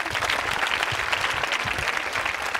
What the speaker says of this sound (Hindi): तालियां जोरों से बजाइए उसके लिए